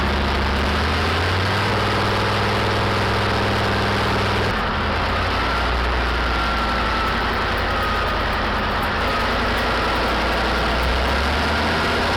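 A Deutz industrial engine running on test, a deep, loud, steady rumble that shifts to a rougher, lower throb partway through.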